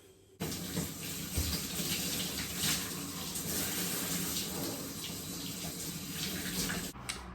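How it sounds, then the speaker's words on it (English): Water gushes steadily from a tap for several seconds while a hair mask is rinsed out of bleached, damaged hair, a constant close splashing rush that starts abruptly and cuts off near the end. "I've just washed out the hair mask now"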